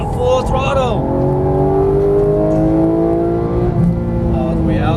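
A Porsche 911 GT engine roars under full throttle on a racetrack, its pitch climbing steadily as it accelerates, loud and close, with a voice speaking over it.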